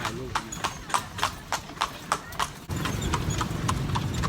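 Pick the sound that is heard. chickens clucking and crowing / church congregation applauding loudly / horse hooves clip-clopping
horse hooves clip-clopping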